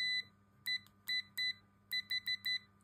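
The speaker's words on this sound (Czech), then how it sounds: "jo, ten pípáček." A VEVOR clamp meter's beeper gives about eight short, bright electronic beeps in an uneven rhythm, some spaced apart and some in quick succession, heard close and clear.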